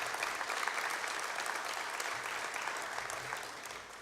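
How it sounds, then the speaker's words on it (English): A conference audience applauding co-chair Kirstie Parker at the National Congress in 2013, sustained clapping from a crowd that holds steady and then tapers slightly. "Can I please have a round of applause for Kirstie?"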